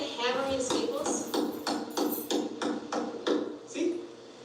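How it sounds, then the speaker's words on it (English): A small hammer taps staples into wood in a run of about a dozen sharp, close knocks at a steady pace, with some voices mixed in. "And then you just take your little hammer."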